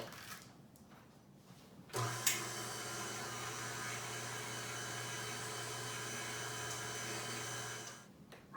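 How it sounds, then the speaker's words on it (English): A spiralizer cutting zucchini into zoodles makes a steady, even mechanical whir that starts abruptly after a quiet moment, runs unbroken for about six seconds at moderate loudness, then stops. "Now we have oodles of Zoodles after running our spiralizer."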